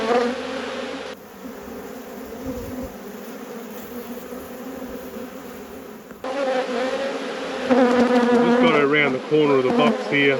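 Honeybees buzzing in a steady, dense drone at close range during a late-season hive inspection, with someone talking over the hum throughout.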